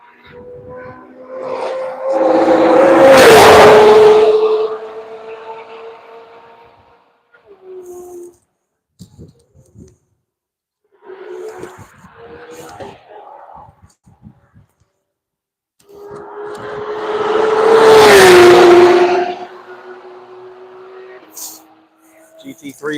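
A Corvette C8 race car on the Road Atlanta track roars past twice, each pass swelling loud from a distance and fading away with a falling engine pitch, with quieter gaps between passes.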